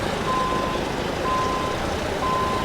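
A tractor-trailer in American Truck Simulator backs its trailer into a parking spot, its reversing alarm beeping in a steady repeating pattern over a constant engine rumble.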